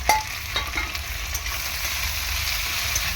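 Hariṇa prawns fry in a pan with garlic and onion for a kochu shak dish, giving a steady close sizzle with a sharp utensil clatter at the start and light scraping as they cook.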